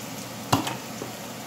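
Sardines drop into a thickened, simmering sambal gravy with a single brief splash and sizzle over a low bubbling background.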